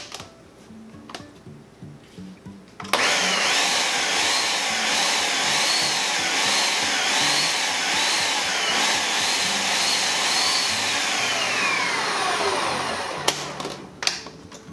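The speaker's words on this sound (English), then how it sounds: "we're gonna give it some quick pulses until it's nice and crumbly" A food processor whirls flour and cold cubed butter for a keto lupin-flour pie crust: the motor kicks in abruptly, roars steadily for about ten seconds, then winds down and stops, with quiet handling noises before and after.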